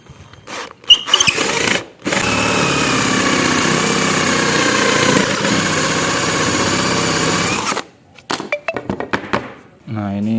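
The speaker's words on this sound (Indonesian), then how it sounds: "Ini bisa menggunakan mata bor engsel sendok ya." A power drill fitted with a hinge boring bit whirs steadily for several seconds as it bores into wood, preceded and followed by short bursts of handling noise and brief speech.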